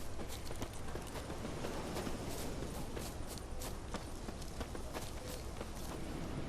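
Footsteps of a character walking through woodland in The Witcher 3, a steady stream of soft crunching steps over dense, continuous ambient forest and game noise, with no voices.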